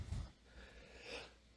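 A short, muffled sneeze or snort from a person, followed by soft breathy exhalation, quiet and close.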